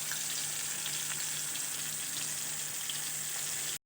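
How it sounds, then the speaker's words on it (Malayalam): Marinated pearl spot fish (karimeen) frying in hot oil with curry leaves, giving a steady, loud, even sizzle that fills the whole stretch with no talking. "കുഴച്ചെടുത്ത കരിമീൻ അതിലേക്ക് ഇട്ട് വറുത്തെടുക്കുക"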